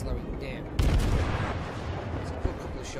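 Naval guns on a British warship fire a salvo in World of Warships: a sudden loud, booming blast erupts near the start and rumbles on. A second short thud follows, all over continuous battle background noise.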